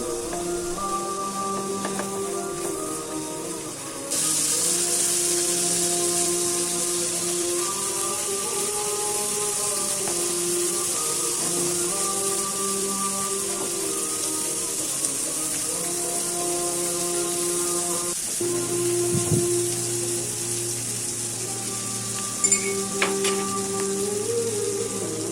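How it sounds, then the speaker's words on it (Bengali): Pabda fish frying in oil in a pan, a continuous hissing sizzle that grows louder after a few seconds and holds steady, with occasional stirring clicks and a faint tonal background hum. "5 মিনিট ভালো মতো ভেজে নিব"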